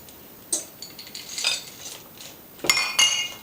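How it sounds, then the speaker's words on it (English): A spatula folds roasted bourbon-soaked pecans and chocolate chunks into a batter in a bowl, making a few sharp metallic clinks and scrapes at close range with quiet gaps between them. "You just take a spatula and kind of mix it into the until it's nicely incorporated all together."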